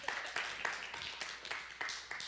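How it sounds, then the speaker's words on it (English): Small audience clapping for a speaker at a spiritual gathering, a sparse, uneven run of claps at moderate loudness, fairly close. "Let's clap for her, guys."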